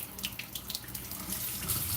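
Tap water runs steadily into a container while the water is being changed, a close, continuous splashing hiss with small bursts of spatter and no voices.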